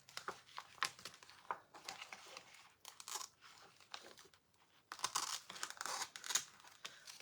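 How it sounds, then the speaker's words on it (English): Quiet snipping and rustling of paper in short bursts, close by, with crinkling between the cuts and no talking. "Let me just use my scissors."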